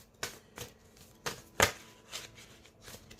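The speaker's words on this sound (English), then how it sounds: "let me shuffle cards for you" Tarot cards shuffled by hand, a series of sharp riffling bursts spaced irregularly about half a second apart, one louder snap in the middle, close and otherwise quiet.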